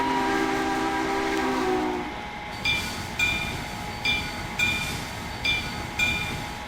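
The default steam whistle of Southern Railway 4501, a steam locomotive in the train simulator Trainz, blows for about two seconds, then fades into a run of rhythmic chuffing exhaust beats from the engine.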